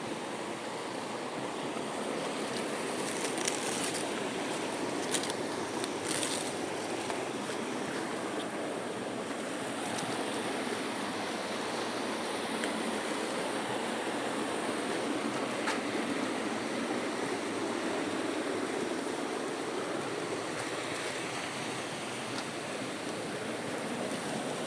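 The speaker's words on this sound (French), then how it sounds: "vous n'allez pas pouvoir m'entendre avec le bruit de la cascade" Waterfall at the Fontaine des Amours in the upper Aude valley, a steady, loud broadband rush of falling water that continues unbroken and alone.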